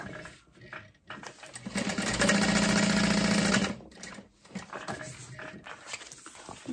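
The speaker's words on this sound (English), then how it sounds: "And you're sewing the upper gusset to the short edges of the lower gusset." A sewing machine runs in one steady burst of about a second and a half while stitching a messenger bag gusset, framed by quieter handling sounds and fabric rustle before and after.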